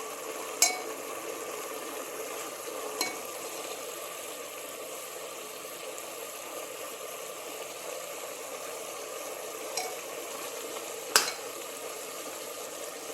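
Grated coconut being stirred into beetroot kootu in a pan gives a soft, steady sizzle with a few sharp scrapes of the spoon against the pan. There is no talking.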